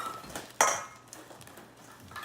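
Cookie dough being mixed in a bowl at home, with a sharp clink of a utensil against the bowl followed by quieter scraping and knocking, close and fairly soft.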